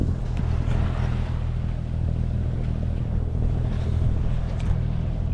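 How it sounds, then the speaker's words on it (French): Sailboat motoring on its inboard engine in calm, windless conditions, a steady low droning hum with water wash running throughout, close and even in level. "il n'y a pas assez de vent pour sortir les voiles, donc on est au moteur pour l'instant."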